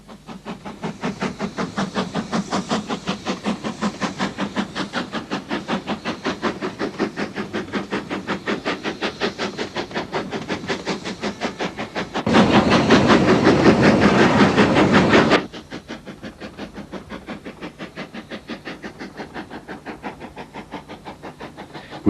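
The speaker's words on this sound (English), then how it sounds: "Once beyond the viaduct, the grade steepens to 1 in 50, climbing towards the station at Glenfinnan." A steam locomotive climbs a 1 in 50 grade toward Glenfinnan in the Scottish Western Highlands. Its rapid exhaust beats chuff rhythmically with hissing throughout, and a louder, harsher stretch comes midway before settling back.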